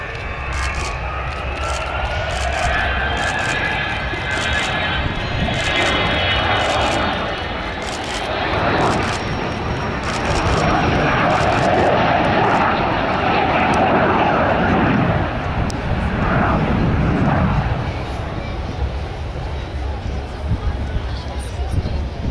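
An Avro Vulcan bomber, the first B-2 version, flying at the RIAT airshow gives a loud, sustained roar that swells and shifts as it passes, with a crowd murmuring and someone talking over it.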